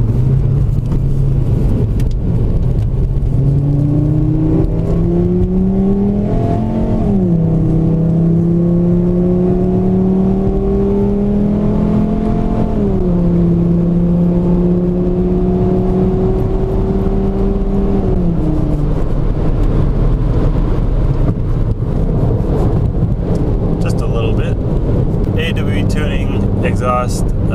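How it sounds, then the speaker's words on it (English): A car fitted with an AWE Tuning exhaust accelerates onto a freeway, its engine note climbing through gears in loud rising sweeps with brief dips at each shift, then settling into a steady cruising drone. "Maybe you guys can hear a little bit of this exhaust."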